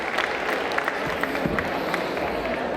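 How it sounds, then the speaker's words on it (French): An audience at a convention conference applauds, a short patter of scattered clapping at moderate distance with a murmur of crowd noise behind it. "Applaudissez-le."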